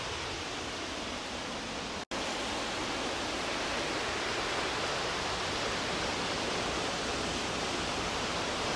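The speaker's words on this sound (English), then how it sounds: "this is our 4th waterfall." A small roadside waterfall in wintry Oregon roars steadily and close up, a dense, unbroken rush of falling water with one brief dropout partway through.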